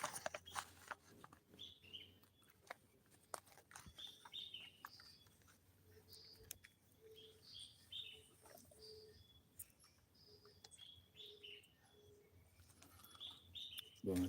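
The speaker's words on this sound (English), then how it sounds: "Go and listen to the bird sounds." Small birds chirp and tweet in short, scattered calls, some near and some farther off, over a faint background hum.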